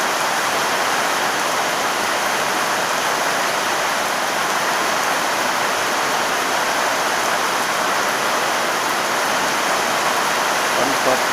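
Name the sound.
heavy rain falling in a storm in the morning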